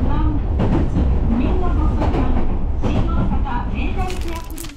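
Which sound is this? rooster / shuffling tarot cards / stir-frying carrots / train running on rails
train running on rails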